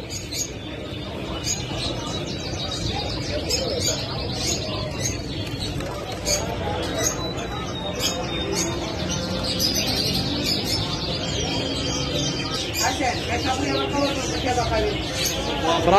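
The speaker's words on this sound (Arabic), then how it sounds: "هذا الحمام القمري" Turtle doves and other caged birds at a busy Baghdad bird market, with continuous chirping and soft cooing under the steady talk of people nearby.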